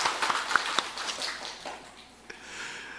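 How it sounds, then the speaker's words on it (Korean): A church congregation at a 55th-anniversary thanksgiving service applauds with moderate, fairly distant clapping that thins out toward the end. "감사 박수 하십시다."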